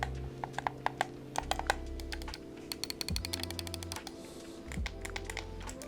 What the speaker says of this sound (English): all mechanical buttons. So A, B, Y, X, all mouse clicks